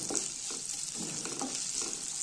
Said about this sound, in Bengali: এরপর এতে দিয়ে দেবো পেঁয়াজ কুচি